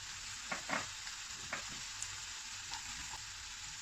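Ginger and garlic fry in oil for a mango pickle, giving a steady quiet sizzle with a few soft stirring clicks and spatters, heard alone without any talk.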